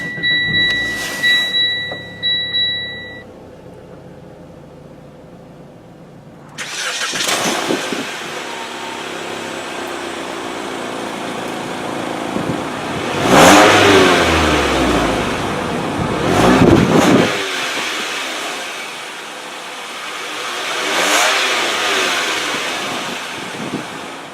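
A 2017 Mitsubishi Lancer engine, started by a turn knob, cranks and catches, then idles and swells with several loud revving surges before settling back down.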